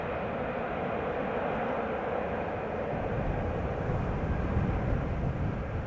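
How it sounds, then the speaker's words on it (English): KLM Asia Boeing 777-200 airliner at Amsterdam Schiphol Airport, a steady broad engine roar, dense at the low end and constant in loudness, heard from a distance with no voices. "KLM Asia 777-200 by the looks of it."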